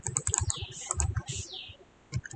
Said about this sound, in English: press V on your keyboard